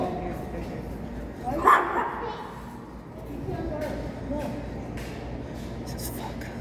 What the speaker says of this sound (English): Sitting there barking at Hazel.